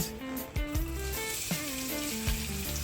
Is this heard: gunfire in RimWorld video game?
no